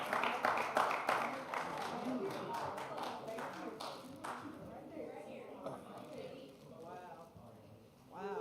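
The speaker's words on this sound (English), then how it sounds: "one last round of applause for the middle school boys" A crowd at a church service applauds the middle school boys, with dense clapping strongest at the start that thins and fades as a voice begins speaking over it.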